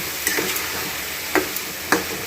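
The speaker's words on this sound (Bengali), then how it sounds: "এবারে দিয়ে আমি একটু ভালো করে নেড়ে চেড়ে নেব" A spatula scrapes and stirs through vegetarian food frying in a pan for Bengali-style niramish dishes, with three distinct clacks over a steady, close sizzle and no talking.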